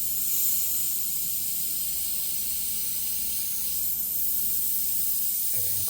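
An airbrush sprays paint onto a Mustang hood, giving a constant, even hiss of compressed air that runs unbroken and close for the whole stretch.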